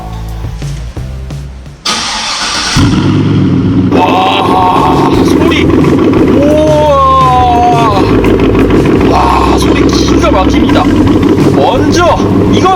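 A Hummer H2 V8 with variable-valve exhaust and quad muffler tips cranks and roars to life, then settles into a loud, rumbling idle with revving swells, while a voice briefly exclaims.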